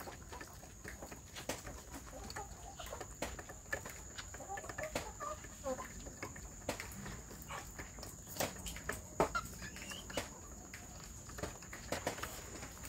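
Young free-range village chicks (anak ayam kampung), a few days old, peep and cluck faintly at close range over light scratching and pattering footsteps, sounding scattered and continuous throughout.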